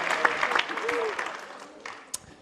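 Audience applause breaks out with brisk, dense clapping that holds steady for a couple of seconds and then thins and fades, with a voice faintly mixed in.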